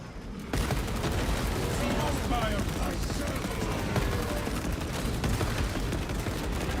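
Heavy bolt rifle fire in a video game, shown in its accuracy variant, plays as a dense run of rapid, punchy shots and blasts after a brief quiet start, loud and sustained with a voice talking beneath.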